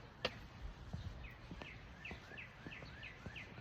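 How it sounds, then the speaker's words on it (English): Outdoors on a walk, a bird repeats short chirping calls in a steady series, faint and distant, with light footstep-like taps and soft ambient noise underneath. "I hear the bird."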